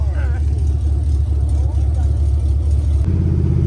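Deep, loud idle rumble of a 5th generation Chevrolet Camaro SS V8 fitted with long tube headers, a steady throbbing drone heard close with a slight shift near the end.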